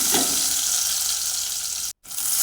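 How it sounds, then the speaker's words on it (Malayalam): Chopped shallots and garlic sauté in oil with a continuous moderate sizzle and hiss, cut by a short silent gap near the end. "എണ്ണയോ ഇല ഒഴിച്ചിട്ട് നമ്മൾ ചീരുള്ളിയും വെളുത്തുള്ളിയും അരിഞ്ഞതിടുക. എന്നിട്ട് നല്ലവണ്ണം അത് വാട്ടുക."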